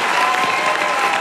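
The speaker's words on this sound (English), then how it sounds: "They all deserve an extra round of applause" Steady, dense applause from a large television talent-show audience, loud and continuous throughout with no pauses or talk.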